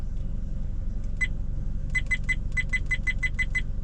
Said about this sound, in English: God, this beeping is annoying.